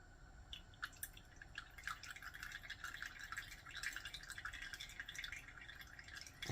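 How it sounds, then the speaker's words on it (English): Juices drain from a cooked turkey as a faint, steady trickle with soft, irregular drips close by. "I'm going to drain my juice out of this."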